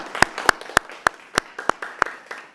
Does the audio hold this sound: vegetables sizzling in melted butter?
no